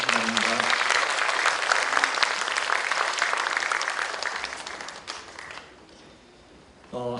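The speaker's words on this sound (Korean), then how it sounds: "큰 박수로 받아주시기 바랍니다." Sustained audience applause at a children's composer program results concert, loud and dense for about five seconds before fading, then rising again briefly at the end.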